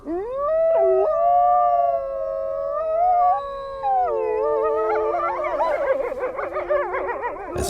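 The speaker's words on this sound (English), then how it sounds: "the wolves start to howl" Several wolves howl together in the wild, long rising and falling tones overlapping into a loud chorus that grows more layered and wavering toward the end.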